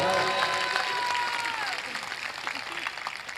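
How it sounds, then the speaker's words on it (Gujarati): Audience applause at a live Gujarati comedy show, with a burst of clapping from a crowd that starts strong and gradually thins out over a few seconds, under a lingering tone. "વધાવો તાળીઓથી વધાવો."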